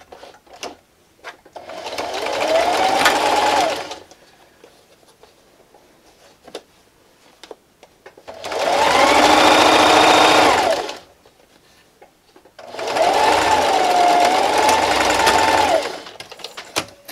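A sewing machine stitches fabric for Halloween treat bags in three loud bursts of rapid, even whirring, separated by quiet pauses with small handling clicks.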